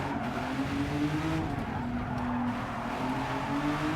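A Renault Avantime in Gran Turismo 7 brakes hard from high speed. Engine tones step down steadily under a steady rush of road and tyre noise, with a faint tyre scrub throughout and no talk.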